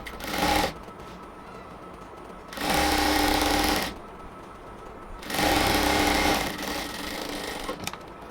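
A sewing machine stitches the joints of a salwar, running in three separate bursts of steady whirring separated by quieter pauses, close and fairly loud with no talk.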